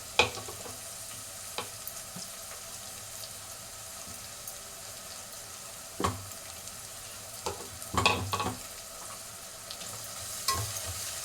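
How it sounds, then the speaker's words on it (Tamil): Onions sauté with ginger garlic paste in a pan, giving a soft, continuous sizzle. A spoon knocks and scrapes against the pan now and then, with a small cluster of clatters near the end. "வதங்கிட்டோன்னா நம்ம இஞ்சி பூண்டு பேஸ்ட்டு அதிலே போட்டுக்கலாம்"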